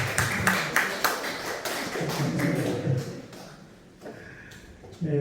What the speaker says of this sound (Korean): 이서 우리 한번 박수 한번 해주시죠